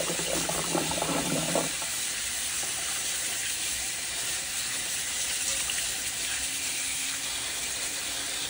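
Callaloo greens are washed under a running kitchen sink tap, producing a steady, close rush of water with splashing and leafy rustling that starts busier, then settles into an even, continuous flow, with no voices.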